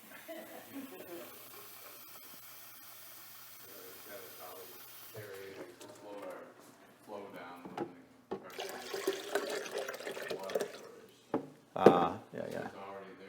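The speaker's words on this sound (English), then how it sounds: "This faucet's very slow." A slow kitchen faucet runs water during a cooking class, a soft hiss and trickle that grows louder toward the end, with people talking throughout.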